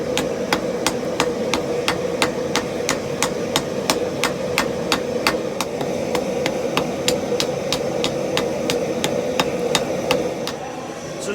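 A hand hammer strikes motorcycle chain Damascus at welding heat on an anvil, roughly two evenly spaced blows per second in a long steady run over a low background hum.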